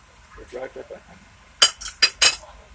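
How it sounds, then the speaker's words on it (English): A spoon stirs seasoning into coconut sauce in a pot, making a few sharp metallic clinks against the side, close and distinct, after some quiet softer stirring. "we stir thoroughly so that we have a perfect mixture, a homogeneous mixture"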